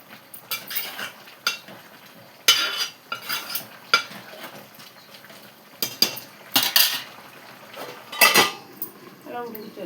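A metal spoon scrapes and clinks against a pot as curry is stirred, in irregular bursts of clattering strokes with quiet gaps between them, while a person talks.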